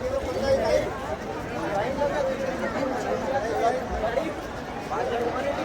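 Crowd of people waiting in a long Sunday queue for the ropeway at Haji Malang near Kalyan, a steady murmur of many overlapping voices and chatter throughout, close and continuous.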